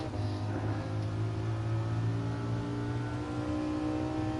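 A road car engine in the Gran Turismo Sport racing game holds a steady, fairly flat drone with a sustained hum and no distinct rev peaks, continuous and alone without talk.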